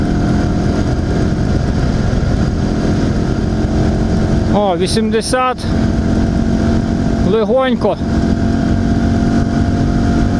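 An IZh Planeta 5 motorcycle engine drones steadily and loudly on a test ride after a crankshaft seal replacement, with a rider's voice cutting in briefly twice.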